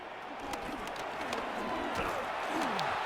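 Home stadium crowd noise in Madden NFL 26 during a Giants franchise game, a steady broad roar and murmur of fans with scattered cheering throughout, moderately loud and continuous.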